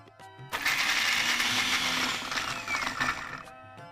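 Kitchen mixer grinder grinding garlic and sesame seeds with about two spoons of water, whirring loudly in one steady burst of about three seconds that starts abruptly and winds down, with faint talk around it.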